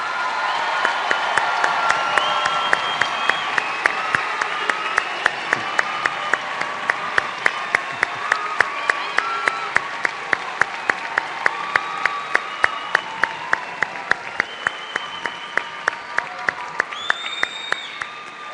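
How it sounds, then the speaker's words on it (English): Large crowd at a university commencement applauding graduates continuously, dense clapping with some cheering and whoops, sustained at a steady loud level throughout. "Let's give our graduates one last round of applause."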